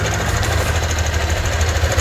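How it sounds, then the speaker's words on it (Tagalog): A Yamaha Aerox V2 scooter engine runs loud and close before repair, a rough, grinding, knocking drone that holds steady without pause and with no voices over it. "recall lang natin mga boss ito yung tunog ng makina kanina yung bago natin siya gayon"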